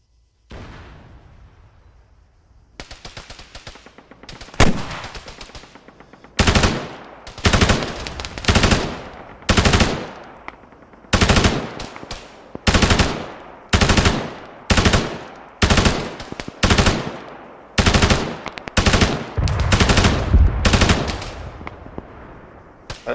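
Arma 3 battlefield gunfire: loud bursts of automatic weapon fire repeat in rapid rhythmic volleys with brief gaps, close and sharp, preceded by a few scattered shots, with no talk.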